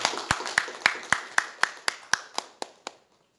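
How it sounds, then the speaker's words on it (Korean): A church congregation claps in unison on Easter Sunday, about a dozen sharp, evenly spaced claps in a steady rhythm that stop abruptly, with a short room echo after each. "우리 격려의 박수 한번 부탁드립니다."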